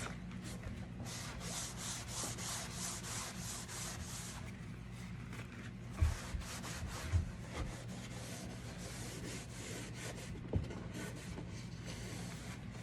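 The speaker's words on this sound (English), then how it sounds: "hand sanding is always necessary" Hand sanding on a wooden barrister bookcase during a full strip and refinish gives a steady, faint, continuous rubbing hiss, broken by a few soft knocks.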